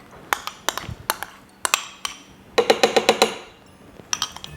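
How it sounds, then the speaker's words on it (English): Chocolate and vegan butter going into a small pot: a rapid series of sharp clinks and knocks, some in quick clusters, close and fairly loud with no talk. "I'm going to put my chocolate into a small pot with some vegan butter."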